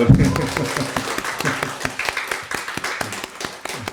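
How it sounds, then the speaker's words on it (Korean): A church congregation breaks into applause, a dense wash of many hands clapping that starts strong, thins a little and carries on steadily, with a voice or two mixed in. "박수 한번 쳐줍시다"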